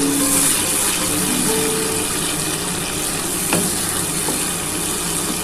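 Ground paste of onion, ginger, garlic and coriander leaves frying in hot oil for a small bhola fish curry, a steady loud dense sizzle throughout with a few faint stirring scrapes and no talk.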